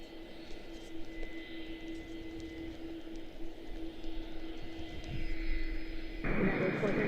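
An old 1,000-horsepower piston aircraft engine starts up at Washington Dulles airport, rising to a louder steady drone near the end over a constant background hum and distant airport noise, with a voice talking throughout.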